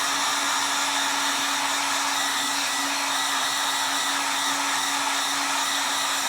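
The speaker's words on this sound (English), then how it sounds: "we're going to hit it with that heat gun again. On low again." A heat gun on its low setting blows a steady, even hiss and whine while warming a glitter tumbler cup, loud and close throughout with no speech.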